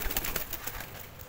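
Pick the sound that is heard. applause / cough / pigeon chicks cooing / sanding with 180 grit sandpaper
pigeon chicks cooing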